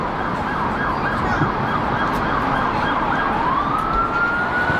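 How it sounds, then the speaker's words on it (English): A police siren wails continuously, its pitch sweeping up and down, loud and fairly close over steady road traffic noise. "So you hear this police sirens, right, guys?"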